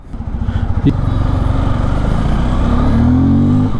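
A 2024 Bajaj Pulsar N250 motorcycle runs with a loud, steady exhaust drone close by, the pitch rising as the engine revs toward the end after a sharp click near the start.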